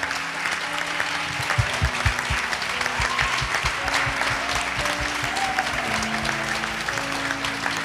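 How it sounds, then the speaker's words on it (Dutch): A church congregation applauds in a steady, full wash of clapping that continues throughout, with voices and a faint musical tone underneath. "Ik wil de kerk een applaus vragen voor God."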